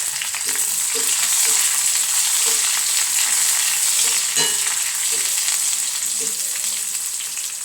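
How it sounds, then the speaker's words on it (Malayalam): Onions and curry leaves fry in a hot pan with a loud, steady sizzling hiss, close up, while a utensil stirs in a few light scrapes and taps. "ഉള്ളി നോക്കട്ടെ ആയിട്ട് മൂത്തിട്ടുണ്ട് അപ്പം ഞാൻ കറിവേപ്പിലയും കൂടി ഇട്ട് കൊടുക്കാം കേട്ടോ"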